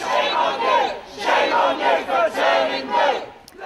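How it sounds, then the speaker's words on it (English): Union protesters outside a government event against public cuts chant together in a loud, rhythmic crowd roar that swells and dips in repeated waves. "outside unions staged a protest against government cuts"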